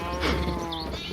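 A sheep in Minecraft gives a single wavering bleat, close and clear, rising then falling over about a second against faint game background.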